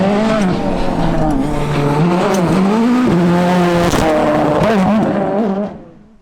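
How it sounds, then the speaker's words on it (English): An M-Sport Ford Fiesta WRC rally car flat out on a wet stage: a loud, rising and falling engine note with quick shifts and revs that fades away sharply at the end. "it's Lee McLaughlin in the Ford Fiesta WRC who's fastest out of the traps."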